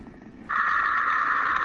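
Saturn's radio emissions, recorded and played back as a faint murmur that abruptly turns into a loud, steady, whistling tone sustained to the end.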